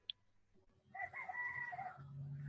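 A rooster crows once from about a second in, a drawn-out harmonic call rising and falling before fading, with a faint click at the start and a low hum underneath.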